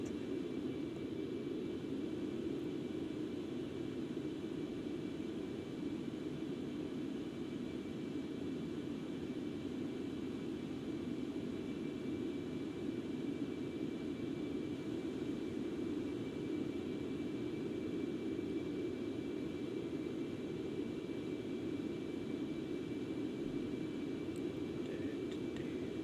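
Concorde jet engines in the X-Plane 11 flight simulator produce a steady, unbroken low roar with a faint high whine, quiet and constant throughout with no talk.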